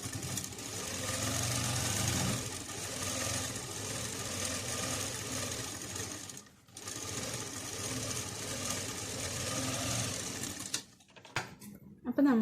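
A sewing machine running a stitch down the side seam of a feeding kurti, a sustained near motor whir with fast needle rattle that pauses briefly around midway and breaks up near the end.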